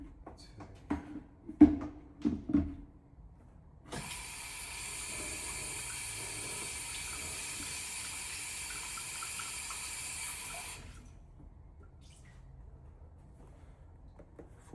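Water runs from a tap for about seven seconds as cleaning solution is mixed in a dance studio, a steady hissing stream framed by a few soft knocks and clatters before and after.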